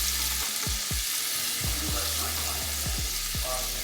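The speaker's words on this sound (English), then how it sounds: "Whisk that up with the butter." Garlic whisked into butter in a hot pan over medium-low heat for shrimp scampi: a gentle sizzle running under repeated soft scrapes and taps of the whisk against the pan.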